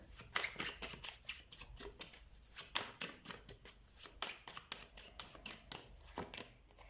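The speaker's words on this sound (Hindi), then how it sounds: "पहले मैं सारे कार्ड्स निकाल लेती हूँ।" Tarot cards drawn from a deck and handled in a rapid run of soft, crisp slaps and shuffling flicks, close and fairly quiet, with no talking over them.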